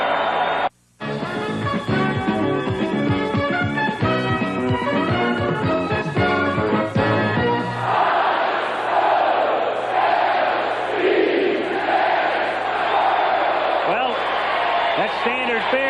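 A baseball stadium crowd at the 1983 World Series in Baltimore cheers and chants, spelling out Orioles in loud rhythmic bursts, then breaking into a dense, roaring wash of crowd noise after a brief pause near the start.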